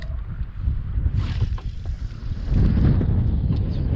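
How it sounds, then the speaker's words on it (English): Strong wind roars and buffets a microphone on open water during kayak fishing, a loud continuous rumble that swells louder in the second half with no voices. "It's wind."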